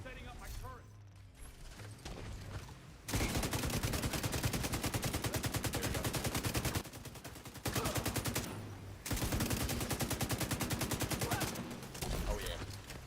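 A deployed turret in The Division 2 fires long rapid automatic bursts, loud and mechanical, in several sustained strings separated by short pauses, with game sounds between volleys.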